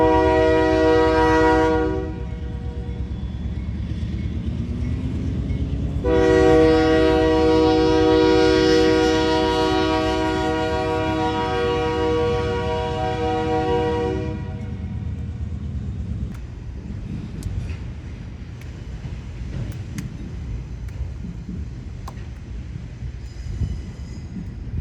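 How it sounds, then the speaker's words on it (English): A Union Pacific freight train rolling past with loud sustained horn blasts, one short then one long, over steady rumbling wheels and railcar clatter that continues after the horn stops. "The first train for Wednesday was Union Pacific train"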